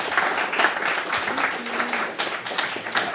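Audience applause at a technology and climate panel event, a steady patter of many hands clapping for about three seconds, with some voices audible underneath.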